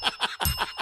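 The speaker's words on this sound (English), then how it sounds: "I almost just broke the bell" A small bell is struck rapidly five times in a quick, even rhythm, each ring bright and close, with a slightly rattling, jangly tone and no talk over it.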